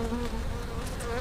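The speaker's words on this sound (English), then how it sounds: "Oh man, that box is packed. Packed with bees." Honey bees buzzing densely inside a crowded hive box in May in Louisiana, a close, continuous droning hum with steady wingbeat tones and no pauses.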